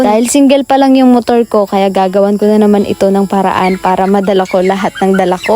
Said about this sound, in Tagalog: pasensya na kayo sa maiingay na manok na maririnig nyo dito sa voice over ko